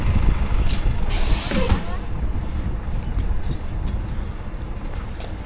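City bus passing on a street in Zhuhai early in the morning, a sharp air-brake hiss standing out over steady traffic rumble.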